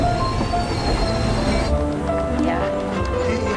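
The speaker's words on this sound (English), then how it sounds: "There goes the train, train whistle." Passing train heard from a station platform, a loud continuous rumble and rattle of railcars with squealing wheels that eases off partway through.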